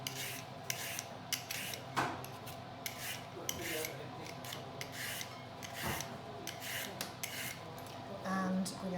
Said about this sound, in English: Cut off the end, peel the parsnip.